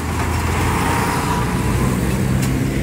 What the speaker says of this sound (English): very busy vehicles